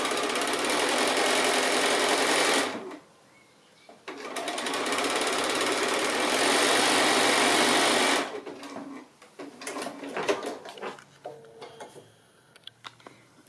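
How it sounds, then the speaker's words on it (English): A sewing machine stitching quilt blocks in a chain, running in two long, loud, steady bursts separated by a short pause, then giving way to quieter, uneven handling noises near the end. "I'm going to sew on that line that's 1/2 inch away as well"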